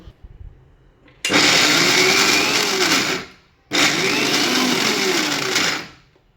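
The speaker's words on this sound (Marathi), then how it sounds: "आता हे सर्व मिक्सरला बारीक करून घेते बिगर पाण्याचं" A mixer grinder grinds dry spices with cumin and no water, running in two loud, steady whirring bursts of about two seconds each with a short pause between, very close.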